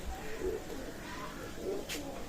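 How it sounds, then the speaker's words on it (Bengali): Kashuri pigeons in a loft give soft, low, rolling coos, close and fairly quiet against a faint background murmur. "বিয়ার্স চমৎকার ব্লাডাইনের কাশুরি কবুতার নিঃসন্দেহে আপনার কালেক্ট করবেন অসাধারণ কাশুরি কবুতার"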